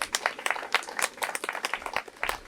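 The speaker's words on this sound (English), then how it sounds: "Nice round of applause for them" Audience applause for a playground design team at a park playground grand opening, steady dense clapping from a small crowd throughout.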